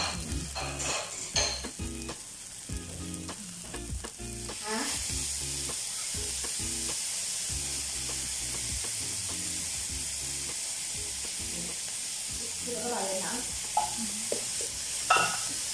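Oil sizzles and crackles steadily in a pan while vegetable fried rice is stir-fried, with a constant loud frying hiss and scattered scraping and clinking from a utensil stirring the rice.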